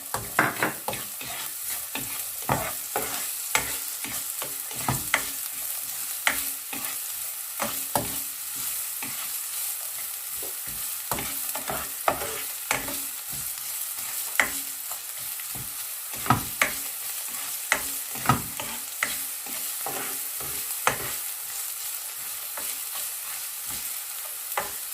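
Onions frying and sizzling in a hot pan for a Filipino-style meat loaf, a steady loud hiss and crackle running throughout with repeated sharp stirring scrapes and clicks scattered across it.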